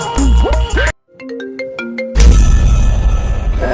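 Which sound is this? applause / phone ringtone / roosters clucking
phone ringtone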